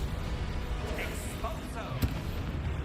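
Spell blasts in Hogwarts Legacy burst over a dense, continuous bed of game sound effects, with a sharp impact near the end standing out briefly from the steady roar.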